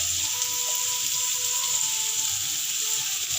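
Onion sautés in hot oil for a soupy pasta dish, giving a steady, close, bright sizzle throughout, with faint tonal clinks underneath.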